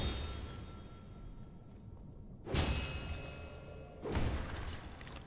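Glass bottles shattering in the video game Alice: Madness Returns: two loud, sharp smashes a second and a half apart, each bursting with bright crackling glass over a steady background hum.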